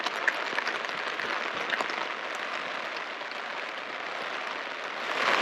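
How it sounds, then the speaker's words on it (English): Heavy rain from an Eastern Sierra afternoon thunderstorm pours down steadily, a dense, even hiss that fills the whole stretch and swells slightly at the end. "Really coming down out here."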